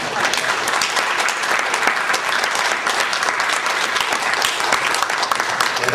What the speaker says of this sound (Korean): 우리가 우리에게 하는 박수인데 좀 더 세게 하면 어떨까요?